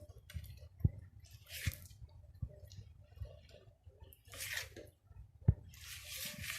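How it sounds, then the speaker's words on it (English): Strawberry ripple cake batter folded in a bowl by hand, soft wet squelches and light taps of the spatula against the bowl at an uneven slow pace, close and quiet, with no talk. "This is how you fold. Pull it over the top, and then do it again."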